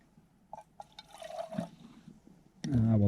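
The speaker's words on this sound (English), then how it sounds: "Right, let's rinse this a bit." Water trickles and drips while a pot is rinsed at a forest wild camp, with quiet splashes building into a louder pour at the end. A voice speaks over it briefly.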